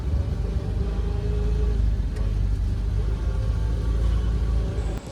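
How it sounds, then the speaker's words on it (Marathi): Auto rickshaw ride away from Kudal railway station in Konkan, a steady low engine rumble and road noise throughout, close and continuous, with no clear talk. "तर आता रिक्षाने आम्ही निघालेलो आहोत घरी जायला."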